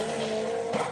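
A stripped-out Vauxhall Corsa B drag car launches hard off the line at a drag strip, a loud, sustained engine roar with a brief squeal of tyres, close and continuous for the full second.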